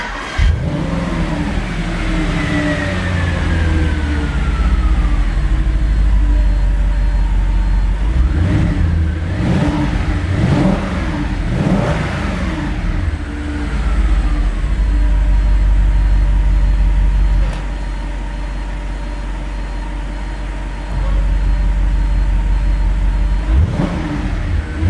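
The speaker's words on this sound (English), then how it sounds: "So I'm just going to do a bit of a rev test now." An Audi RS4 V8 with its standard exhaust is revved repeatedly, loud and close, with rising and falling engine sweeps and several sharp blips before it drops back to a steady idle and then blips once more.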